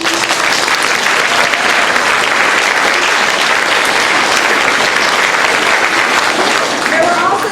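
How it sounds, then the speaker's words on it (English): An audience after a third grade school play gives sustained, loud, dense applause that continues evenly from start to finish. "another round of applause, please"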